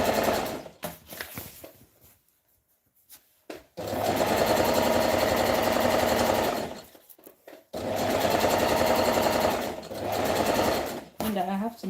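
Sewing machine stitching a gathered skirt, two long steady bursts of rapid mechanical whirring separated by pauses, close and loud, with talking at the start and end.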